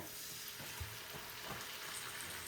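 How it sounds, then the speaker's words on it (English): A splash of red wine hits a hot pan for chicken cacciatore, giving a faint, steady sizzle with a few soft stirring clicks, quiet and distant-sounding, with no speech. "add in just a little bit of red wine because I'm hoping that will deglaze this pan a little bit"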